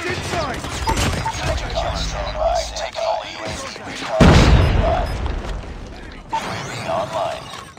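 In Call of Duty, a grenade explodes with a heavy, close boom partway through, among gunfire and other combat sounds.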